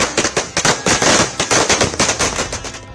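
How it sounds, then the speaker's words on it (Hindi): Diwali firecrackers bursting in a rapid, uneven string of loud sharp cracks and pops, close by and continuous, with no voices. "पटाखों की आवाज इस जोश को दोगुना करती है"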